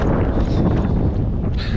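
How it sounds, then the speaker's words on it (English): Strong wind buffets the microphone in a steady roaring rumble at about 4 a.m., loud and close throughout. "but it's freaking windy."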